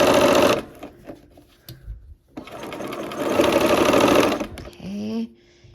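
A sewing machine runs a quarter-inch seam on a Christmas quilt block, with a short burst, a pause, then a longer steady run of close mechanical stitching that stops abruptly.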